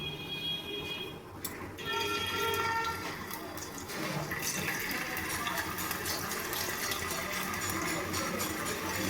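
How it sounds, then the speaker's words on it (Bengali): Marinated potatoes dropped a few at a time into hot oil in a wok: a sudden rise into a loud, steady sizzling hiss that carries on close and continuous without talk. "এখানে আমি অল্প অল্প করে আলুগুলো দিয়ে ভেজে নেব।"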